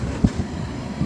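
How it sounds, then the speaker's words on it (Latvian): Low rumbling of a train moving away at a railway crossing in Imanta, a dull rolling roar with a soft clunk, brief and fairly distant. "Jā, vilciens attiet, bet uz otru pusi."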